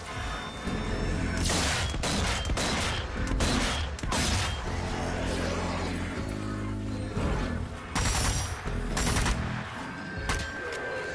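Gunfire from the zombie shooter game Zombie Army 4, with sharp shots, bursts and booming impacts in close, loud succession over a dense game soundscape.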